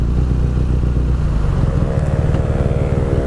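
BMW R nineT motorcycle engine running loud and close, with a steady throbbing idle rumble that rises slightly into a revving drone midway and holds to the end.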